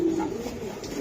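Racing giribaz pigeons coo in a low, steady murmur, a single drawn-out coo close by over a soft background hum.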